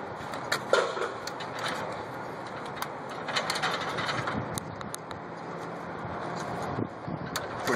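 A clip is pushed into position on the lock mechanism of a LAT electronic lock, giving close mechanical clicks and scraping, a sharp snap early on, then a rough sliding rasp of metal parts, with no talking.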